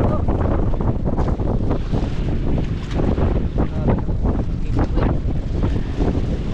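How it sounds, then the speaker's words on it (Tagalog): Strong, steady wind roars and buffets against a small fishing boat out on the water, a continuous loud rush with gusty surges and faint wave wash underneath. "Lakas na yung hangin, straight na yung hangin na lakas ah."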